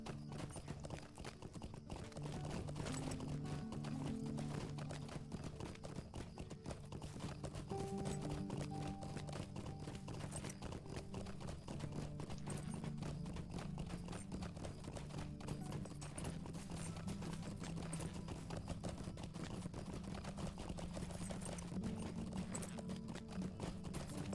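Mount hoofbeats of a riding goat in the Lord of the Rings Online game, a steady clip-clop rhythm running throughout over continuous game music and ambience, fairly loud and close.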